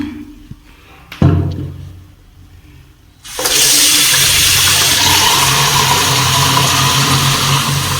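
Neem, salt and turmeric solution is poured into a filter: a steady, loud rush of liquid begins after a few quiet seconds and runs on without a break.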